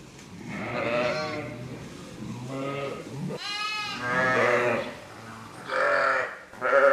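A ewe and her twin lambs bleat repeatedly on a farm, with loud nearby cries overlapping and some lower grunting between them.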